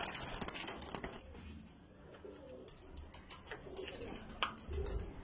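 Pigeons on a rooftop coo in soft, repeated low calls, close to the microphone, amid light rustling and faint background noise, with no talking.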